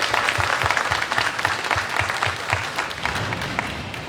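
A crowd at a city event announcing summer jobs for youth gives staff a loud round of applause, with brisk clapping and a steady thumping pulse underneath throughout.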